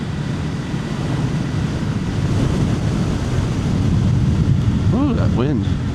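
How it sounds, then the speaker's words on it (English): Heavy wind roars across the microphone of a motorcycle cruising along scenic Chuckanut Drive by the water in the evening, a constant loud rumbling buffet, with a brief voice near the end. "Whoa, that wind."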